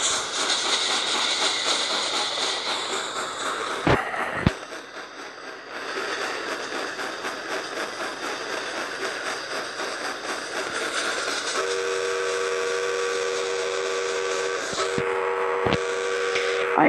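Steam whistle of an N&W J class locomotive in a train simulator game, a long sustained whistle over steady hissing steam and rumble, with a few sharp clanks.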